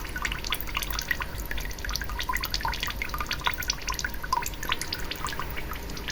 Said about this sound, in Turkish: Evet suyla mum karışık. Şırıltıyı duyuyoruz.